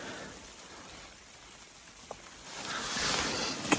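Heavy snow falls on a tent during a snowstorm at Shandur Pass, making a steady soft hiss against the fabric that swells toward the end, with a couple of faint taps and no talk.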